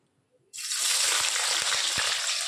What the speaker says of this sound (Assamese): তেলখিনি গৰম হোৱাৰ লগে লগে মই ইয়াতে পিঁয়াজখিনি দি দিম।